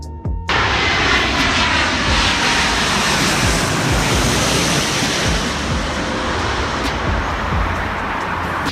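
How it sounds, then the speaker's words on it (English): Airliners landing in thick fog at San Francisco International Airport, a loud, steady jet engine roar that holds broadband and unbroken for several seconds after an abrupt start, with no voices. "This is spectacular parallel landing at San Francisco International Airport."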